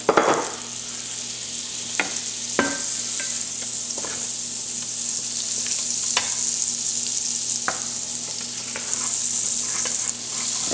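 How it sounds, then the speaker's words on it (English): Half a stick of butter melting in a cooking pot for sausage jambalaya, a steady close sizzle with occasional light stirring clicks and scrapes. "we're going to add a half a stick of butter. Let that get melted down."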